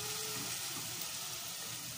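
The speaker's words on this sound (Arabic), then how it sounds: "هنا هي القرع بدا كيتشحر لينا" Red pumpkin pieces searing in a pot as the start of a pumpkin soup give off a dense, steady sizzle, close and even throughout, with no voices.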